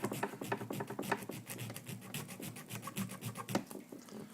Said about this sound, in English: So if I want to straighten it up, I can take the file, straighten it up a little bit.